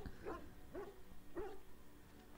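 A Mabari war dog in Dragon Age: Origins barks three times at an even pace, each bark a short, faint, slightly whiny yelp, with no voices over it.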